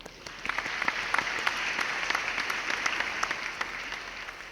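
Audience applause at a university CAD/CAM design competition award event, a steady room-filling clapping from many hands that holds evenly for several seconds with no talk over it.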